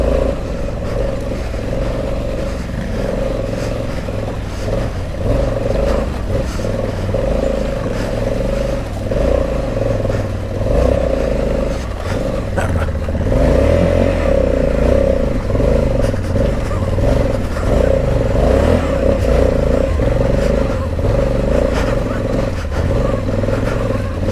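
A 2020 Honda Africa Twin motorcycle churns through muddy woodland ruts, its engine droning loud and close with fluctuating revs and clatter throughout.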